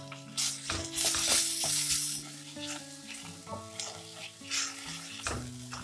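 Crushed ginger and garlic sizzle in hot oil for a thick chicken gravy while being stirred, giving close, bright frying hiss with louder surges at each stir, under a soft tonal background.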